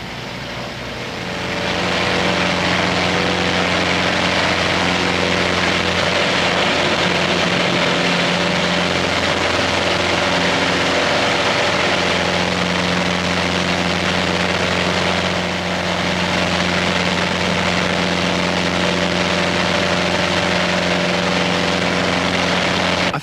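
A Pitts Special propeller aircraft engine drones steadily at close range, a loud continuous hum with strong low tones that holds throughout without a break.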